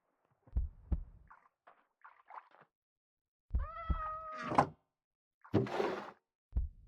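Cat meows from the video game Minecraft, several short distinct calls in separate bursts with clear gaps between them, plus a couple of soft thuds, fairly close and clean with no talking.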